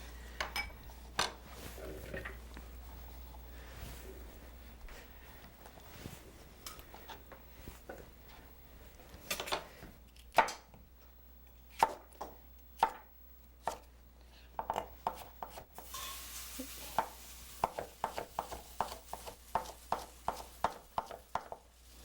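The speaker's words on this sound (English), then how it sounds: "Saya, how are you cutting that cucumber?" A knife chops quartered cucumber on a cutting board, sparse cuts early then a quickening run of crisp, close taps toward the end, with faint kitchen clatter in the background.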